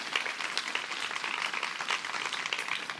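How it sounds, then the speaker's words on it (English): A seminar audience applauding a speaker, steady clapping throughout at moderate loudness, with no talk over it. "So please give an applause to Cristina."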